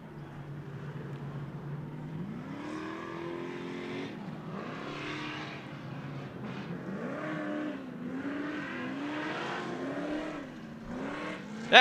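Pro Lite short course race trucks accelerating on a dirt track in a Great American Short Course round. Engines rev through repeated rising pitch sweeps as the trucks shift, a moderately distant roar, with no talk.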